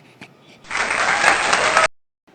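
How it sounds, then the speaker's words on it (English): Workshop audience giving a student a round of applause, a burst of dense clapping that swells in, holds for about a second, then stops abruptly. "Please give a big round of applause to Keniswara."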